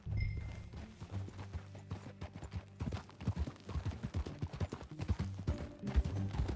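Horse hooves clip-clop at a steady walking rhythm in the Red Dead Redemption 2 video game, moderately quiet and continuous, with a low ambient music or rumble underneath.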